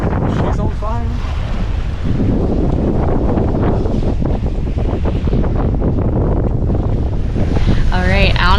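Sailboat running under sail on an offshore passage, heading into an anchorage, with heavy wind roaring across the microphone and waves rushing along the hull, while people talk briefly at the start and the end.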